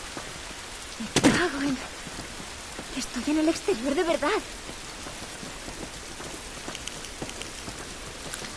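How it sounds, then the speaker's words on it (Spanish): Steady rain falls outdoors in the video game The Last of Us, a constant hiss running under a voice as he talks over it. "Esta lluvia no nos va a ayudar."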